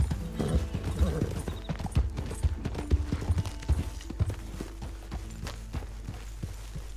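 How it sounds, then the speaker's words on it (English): Horse hooves in Red Dead Redemption 2 clip-clop at a walking pace on hard ground, close by, with a few irregular steps and faint background noise. "Careful with that horse, Arthur."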